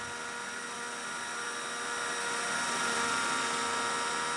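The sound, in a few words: helicopter in a flight simulator game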